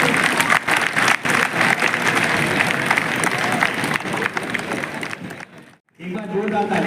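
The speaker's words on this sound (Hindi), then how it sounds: "आदरणीय कोश्यारी जी का स्वागत करेंगे और आपकी तालियां बजती रहे।" Dense audience applause fills a hall at a welcome for an Uttarakhand dignitary, a loud steady wash of clapping that drops to near silence for a moment, then resumes strongly.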